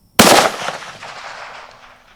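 A single loud rifle shot at an outdoor shooting range during hunt preparation, a sharp close crack followed by a long rolling echo that fades over about two seconds, with no talking.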